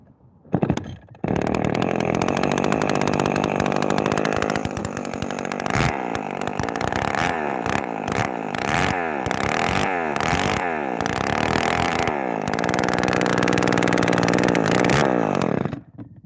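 A small two-stroke Echo string trimmer engine running without its muffler blares loud and raspy, revving up and down repeatedly with a harsh, unmuffled buzz.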